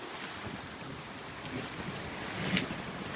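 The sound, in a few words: sea waves breaking at the shore fishing spot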